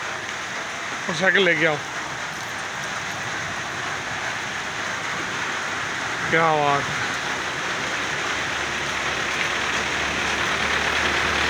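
Steady rain falls in Jhelum, Pakistan, a constant wash of hiss with a low rumble of traffic beneath, while a voice speaks briefly twice.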